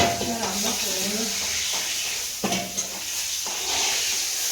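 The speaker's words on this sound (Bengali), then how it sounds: "মাছ ভাজা হয়ে গেছে।" Large fish sizzles and fries in a pan in a home kitchen, a steady hiss with occasional scraping stirs and clatters of the utensil, close by.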